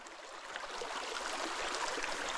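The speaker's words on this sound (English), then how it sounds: "The creek." A forest creek flows in a steady broadband rush of water, continuous and moderately faint, with no voices.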